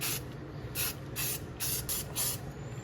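Aerosol spray paint laying a light coat of brown over a model basement scene, a series of short hissing bursts, roughly five, separated by brief pauses, close and clear.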